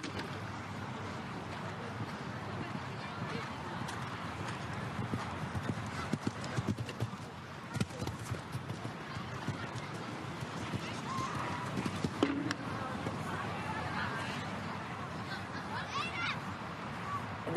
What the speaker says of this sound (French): Cheval avec une grande galopade et beaucoup d'équilibre dans son galop